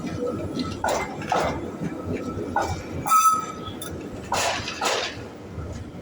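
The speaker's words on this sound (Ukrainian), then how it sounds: "ось наш трамвайчик." A city tram rolls along a Helsinki street, a moderate rumble with rail squeals and clanks rising and falling over several seconds amid street ambience.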